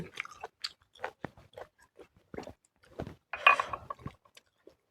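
Close, wet chewing of big boiled apple snails dipped in spicy seafood sauce, with irregular crunchy bites and smacking sounds over quiet pauses.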